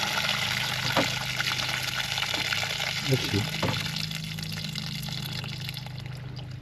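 Water gushes steadily from a loosened drain bung on an International 484 tractor, a continuous near rush with a voice speaking over it.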